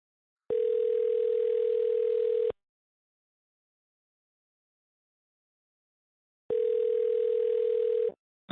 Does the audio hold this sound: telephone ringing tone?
yes